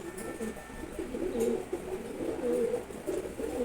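Soft, repeated pigeon cooing, several birds calling in low rolling phrases close by, with faint background noise.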